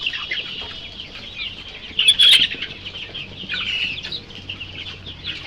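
A crowded flock of broiler chickens in cold weather chirps and cheeps continuously in a dense high chatter, with a brief flurry of wing flapping midway.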